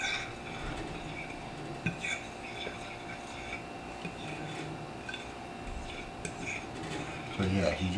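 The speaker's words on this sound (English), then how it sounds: "you just want to mix this up nice and well, incorporate that seasoning in there" Pork tenderloin being mixed by hand with flour and seasoning in a bowl, giving quiet soft rubbing and occasional faint clinks of dishware, steady and close with a low room hum throughout.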